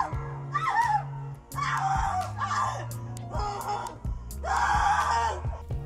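An audio file of scream sound effects for tabletop games plays, with several anguished screams and wails in succession, loud and close, over a low sustained musical drone.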